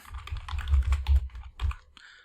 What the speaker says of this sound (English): let's start typing that in